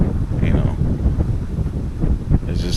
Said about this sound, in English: it's very hot, but it's windy